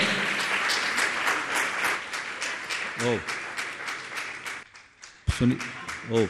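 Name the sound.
audience applause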